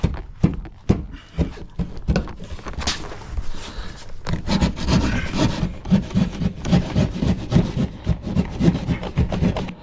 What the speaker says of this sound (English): I'm gonna cut a notch in the drywall here.